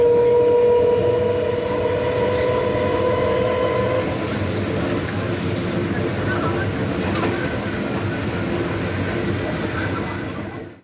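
Inside a moving passenger train bound for Sealdah station, a loud steady rumble of wheels and carriage fills the space, with a long tonal horn or whistle at the start fading under the drone.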